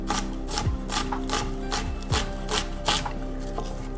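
A knife finely slices an onion on a cutting board, producing quick, crisp, repeated chops at a steady rhythm, close and fairly loud, with no talking.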